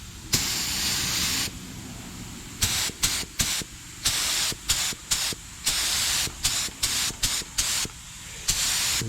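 Tangelo-colored spray paint hissing from a can onto a skateboard, one long close burst followed by a rapid series of short, loud bursts separated by brief pauses.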